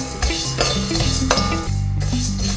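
Cumin and fenugreek seeds roasting in a dry pan are stirred steadily, the spoon scraping and clinking against the metal in a continuous close rhythm with faint sizzling underneath.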